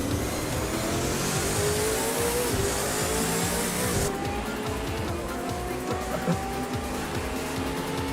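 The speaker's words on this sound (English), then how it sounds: "Now, this Holden car engine, loud, quite loud" A loud Holden race car engine in a racing video game roars continuously at high revs on the Surfers Paradise circuit, with shifting pitch and tire noise, steady and close throughout.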